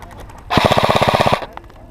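A rapid burst of airsoft gunfire during an outdoor airsoft game, about a dozen quick, evenly spaced shots lasting under a second, close and loud.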